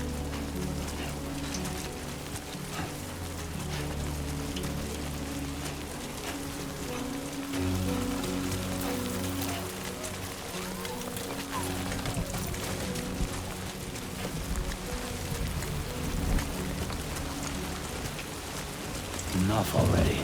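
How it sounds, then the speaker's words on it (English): Steady rain hisses down in Death Stranding 2 on the PS5, a dense, continuous wash with low rumbling undertones like distant thunder, while someone talks over it and game music hums beneath. "Oh yeah, that rain ain't good."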